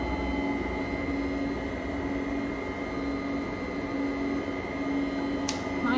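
Yeesall walking pad treadmill motor running at its top speed, a steady continuous whir and hum with an even broadband hiss throughout and one brief click near the end, no talking.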